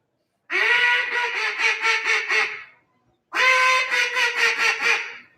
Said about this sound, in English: You're just going to say the basic quacks in there.